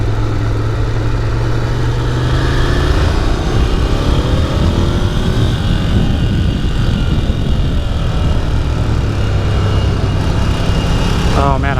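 Ducati Scrambler Desert Sled motorcycle engine heard while riding at sunset by a lake, a loud continuous roar with rising and falling revs and heavy wind rumble, close throughout.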